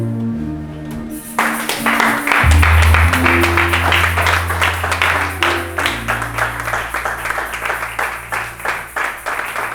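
A church congregation claps in steady rhythm over sustained keyboard chords during a worship service, loud, lively and continuous throughout.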